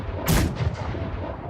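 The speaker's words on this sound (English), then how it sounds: "2 cannon shots can be heard in the distance." A single heavy boom rings out with a long rolling tail, then a second softer blast follows, both sounding far off across open air.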